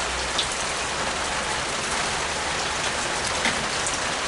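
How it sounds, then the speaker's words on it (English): Steady rain pours outdoors over a garden where seeds are being planted, a dense, even hiss of drops with no voices. "even though it's raining, I'm going to still go ahead and do this"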